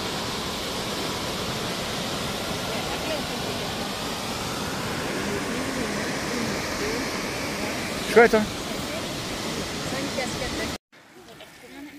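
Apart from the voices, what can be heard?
waterfall, the Biaude cascades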